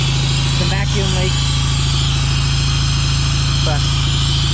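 A Honda Accord engine with a vacuum leak idles in a loud, steady low drone that runs unbroken throughout, with faint brief voices in the background.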